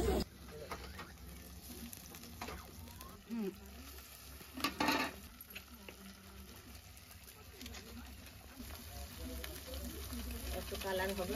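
A ground paste of ginger, garlic, cumin and chili sizzling in hot oil, a faint steady crackle with scattered stirring knocks and a brief louder burst midway, birds cooing faintly in the background.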